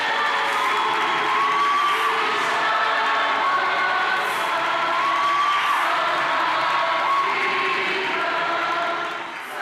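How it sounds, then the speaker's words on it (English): A school assembly crowd cheers and claps loudly and continuously, with whoops and excited shouting riding over the applause until it fades slightly at the end. "Can we give Mr. Matsibani a round of applause"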